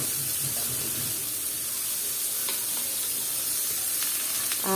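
Gourd peel, potato and flat bean pieces fry in a spice paste, giving a loud, dense sizzling hiss that runs steadily throughout with a few faint utensil taps near the end.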